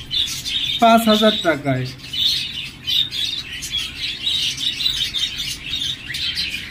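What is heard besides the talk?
Fischer's lovebirds calling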